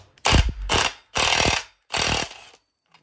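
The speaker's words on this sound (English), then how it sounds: "we'll use the old impact." Impact wrench loosening a chainsaw clutch: four loud, close rattling hammering bursts separated by short pauses.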